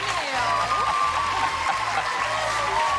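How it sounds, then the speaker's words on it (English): Studio audience at a game show applauding and cheering for the grand champion, a dense steady wash of clapping with bright whistles, close and loud for the full three seconds. "The crowd goes crazy"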